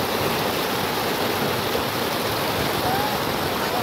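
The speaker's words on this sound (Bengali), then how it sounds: "এবং জলটা যে শব্দে প্রবাহিত হচ্ছে তাতে একটা সুন্দর শব্দ সৃষ্টি হচ্ছে।" Water in a village stream rushes and gurgles in a continuous, loud, close wash that stays steady throughout with no voices.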